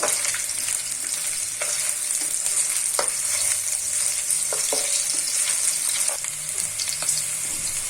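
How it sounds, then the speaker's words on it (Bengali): Chopped onion and sliced green chilli frying in hot oil, a steady bright sizzle with crackles and occasional stirring clinks close by, no talking. "তেলটা গরম হয়ে গেছে, এখন আমি পেঁয়াজ কুচি এবং কাঁচামরিচ ফালি দিয়ে দিব। একটু ভেজে নিব।"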